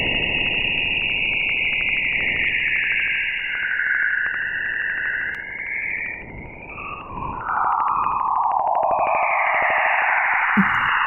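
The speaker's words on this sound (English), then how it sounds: "What you just heard was actual radio waves coming from Jupiter's auroras." Radio emissions from Jupiter's auroras, recorded by the Waves instrument, make eerie whistling, swooping tones over a hissing, crackling noise bed, gliding up and down for about eleven seconds with no voices.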